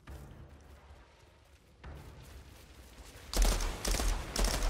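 A three-round burst rifle fires in the sci-fi shooter Outriders. Quick, punchy bursts come close together toward the end after quieter ambient game sounds.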